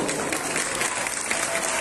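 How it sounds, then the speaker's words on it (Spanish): Steady applause from the audience at a pageant for the Flor de la Feria queen election and coronation in Concepción, a dense, even wash of clapping with no voices standing out. "Vamos a brindar un fuerte aplauso, por favor."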